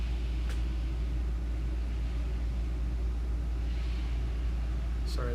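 In a drum room, an air conditioner drones with a steady low hum and rumble that makes the wall and cymbals vibrate slightly, continuous and fairly loud for the whole stretch.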